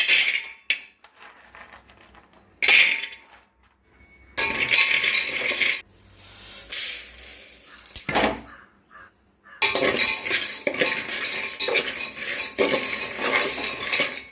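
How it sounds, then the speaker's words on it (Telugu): Cashews and almonds are stirred as they fry dry in a metal pan, making irregular scraping and clinking spoon-on-metal bursts with short pauses between strokes and little background noise. "బాదం పప్పు ఫ్రై చేసుకుందాం."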